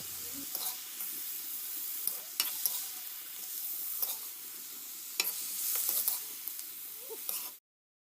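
Hyacinth beans (urohi) crackle and sizzle in a wok, with a steady frying hiss and scattered sharp scrapes of a spatula stirring, close up and with no voices, before the sound cuts off abruptly.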